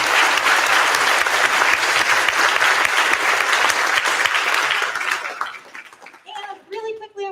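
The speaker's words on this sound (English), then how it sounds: "So round of applause for all of our 7th and 8th grade students." A school audience at a spring orchestra concert applauds 7th and 8th grade students, loud sustained clapping that fades out after about five seconds, followed by a brief bit of talk.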